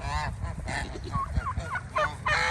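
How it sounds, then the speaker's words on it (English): Turkeys gobble in repeated, warbling calls, several birds sounding close together over a low background rumble. "Turkeys are getting quite loud."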